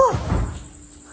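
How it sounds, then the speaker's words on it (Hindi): A door in a house swings shut by itself, giving one close, heavy thud with a brief rattle that fades into quiet room tone. "ये देखे हैं आप लोगों ने ये दरवाज़ा कैसे बंद हुआ है।"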